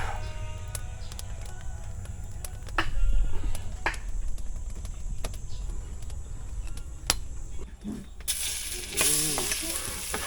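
Crackling sizzle of snakehead fish frying in hot cooking oil, steady with scattered sharp pops and a brighter hissing burst near the end.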